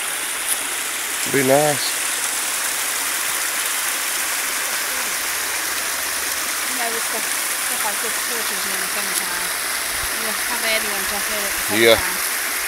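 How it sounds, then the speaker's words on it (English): Steady broadband water noise from a waterfall and stream on a nature walk, a constant hiss running throughout as people talk over it at moments. "look at the waterfall, you know?"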